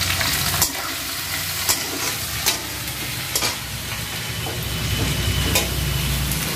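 A spice paste of ground ginger and tomato sizzles and bubbles loudly in a pan, with sharp spatula scrapes and stirring clatters cutting through the frying every second or so.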